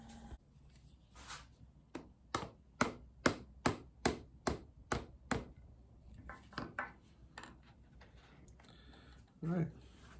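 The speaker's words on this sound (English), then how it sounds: "I'll chisel it off." Chisel work taking small nubs off a square walnut and cherry wood bowl: about ten sharp, evenly spaced knocks ring out close by, followed by scattered softer taps and light handling noise.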